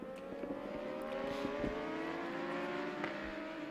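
European Superstock 1000 racing motorcycles on the Pannonia Ring circuit in Hungary, engines revving and rising in pitch as they run together, a steady loud drone with shifting tones and no talk.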